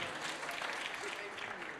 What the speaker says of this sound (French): on a applaudi pour vous